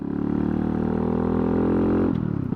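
A motorcycle cruising up a road at regular speed, its engine giving a loud, steady droning hum close to the microphone that shifts pitch briefly near the end, with no speech.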